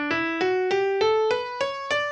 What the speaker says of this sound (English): so if I want to explain the major scale, I can just say it's the scale that sounds like this.